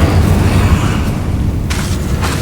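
Incendio fire spell in Hogwarts Legacy: a loud, booming, roaring fiery burst that sustains for a couple of seconds, with a few sharp crackles near the end.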